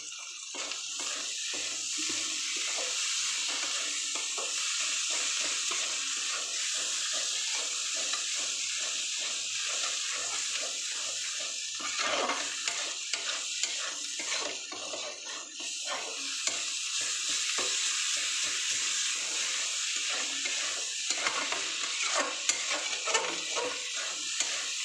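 Tomatoes for a dry fish curry sizzle steadily in a pan under rhythmic scraping strokes as they are stirred, with a few louder clanks near the end.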